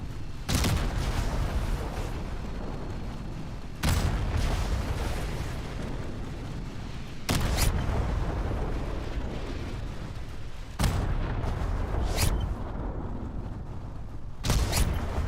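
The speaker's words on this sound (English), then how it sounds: "Friendly Predator missile inbound." Predator missile strikes in the Modern Warfare 3 shooter game produce a steady, roaring wall of explosion and battle noise. Five sharp booming impacts cut through it at irregular intervals, loud and close.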